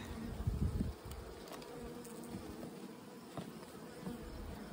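A soft, continuous buzz of many honey bees humming together in a hive, low and steady, with a few louder moments as individual bees pass close.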